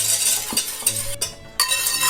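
Apricot jam and a little water melting in a saucepan while being stirred: a few close spoon scrapes and soft clinks against the pan, with no talking.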